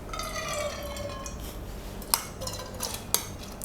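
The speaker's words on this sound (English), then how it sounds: "I will put the dal here, lentil, half a cup washed and drained, and then another half a cup to this" Washed, drained lentils tip into a metal pan with wet scraping and clinks of cookware, a couple of sharp knocks standing out near the end; close and fairly quiet, with no talking.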